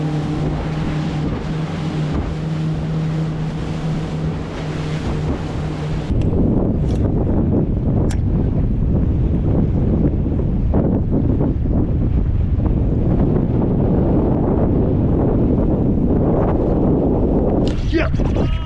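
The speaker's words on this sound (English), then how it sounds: "this wind's just getting ridiculous now" Strong wind buffets the microphone on a fishing boat at sea, a constant loud roar with rushing water and engine rumble underneath, briefly easing before growing heavier and steady.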